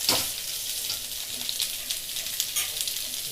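Okra frying in hot oil gives off a continuous close, bright sizzle, with a sharp burst as it hits the oil at the start and light crackles and stirring noises throughout.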